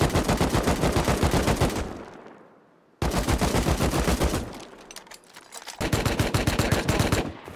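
Rapid automatic gunfire from the survival video game Rust rattles in loud, dense bursts, pausing briefly around the second mark before heavy sustained firing resumes and continues to the end.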